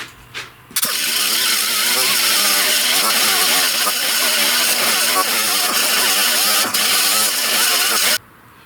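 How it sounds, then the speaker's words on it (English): An angle grinder disc grinds rivet heads on a 1930–31 Model A Ford firewall, a loud, harsh, continuous whine and scrape close by that starts abruptly and cuts off near the end. "I grind welds, I grind rivet heads, I grind all kind of stuff like this."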